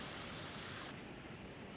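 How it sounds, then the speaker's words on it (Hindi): The Madhuganga river rushes far below in the hills, swollen after heavy rain, a steady broadband roar that carries up to the listener without a break and with no voices over it. "नीचे मधुगंगा की आवाज़ ना यहाँ तक सुनाई दे रही है"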